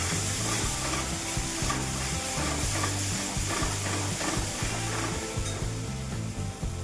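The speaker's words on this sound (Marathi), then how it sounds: "5-1 मिनटं आपल्याला आता छान मसाला भाजून घ्यायचा." Ground masala roasts in a pan over a low flame, with a dense, continuous sizzle and rhythmic scraping strokes of a spoon stirring it, close up and uninterrupted by speech.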